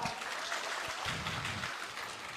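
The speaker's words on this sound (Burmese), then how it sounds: "လူသစ်လေးတွေလက်ခုပ်တန်ကျယ်လေးကြကြပါတယ်ခင်ဗျ" Applause from an audience welcoming newcomers, a fairly faint, steady patter of many clapping hands lasting a couple of seconds.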